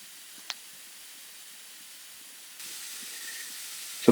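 A hot air welding machine for textile, heated to its set temperature and running idle: a steady, quiet airy hiss that grows slightly louder partway through, with a brief click early on and a louder bump at the very end.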